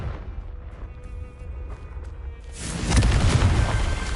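A Confringo blasting spell goes off in Hogwarts Legacy: faint magical tones and hum lead into a sudden, loud booming explosion that rumbles on for over a second.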